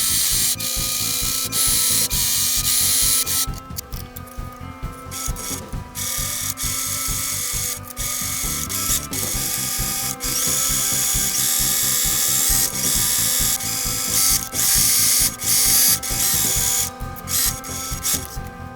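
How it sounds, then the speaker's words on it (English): A serger trims and stitches the cropped end of an oversized T-shirt, its rapid mechanical chatter running loud and close in bursts with brief pauses between runs. "I'm gonna serge this"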